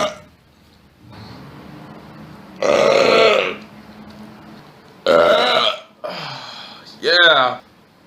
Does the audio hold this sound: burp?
yes